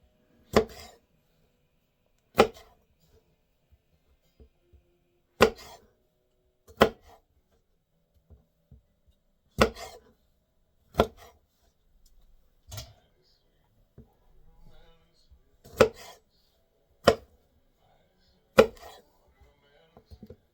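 A knife chops vegetables for an organic tabouleh salad in sharp, close, isolated thuds on a board, spaced one to three seconds apart in an uneven rhythm, with quiet background between strokes.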